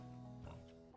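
A pig on a farm grunts once, low and quiet, a short rough snort in an otherwise calm setting.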